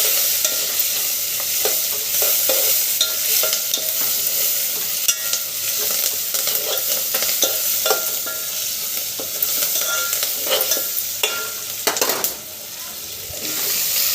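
Cauliflower tomato curry with curry leaves is stirred in a hot pan, a constant sizzle with frequent utensil scrapes and clinks against the pan.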